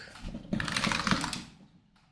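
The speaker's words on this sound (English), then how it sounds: "My keyboard is still very loud." Rapid keystrokes clatter on a loud computer keyboard, a close flurry of clicks that builds and then trails off into quiet.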